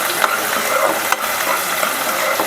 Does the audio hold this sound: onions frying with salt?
yes